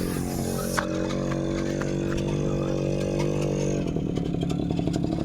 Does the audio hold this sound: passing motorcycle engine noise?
yes